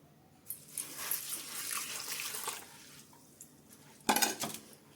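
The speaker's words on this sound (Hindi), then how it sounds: "सबसे पहले 1 कटोरी पोहा ले लेंगे और इसको हम 1 से 2 पानी धुल लेंगे।" Flattened rice (poha) is rinsed in a bowl of water, with soft sloshing and trickling, and a louder splash and clatter near the end. No voices.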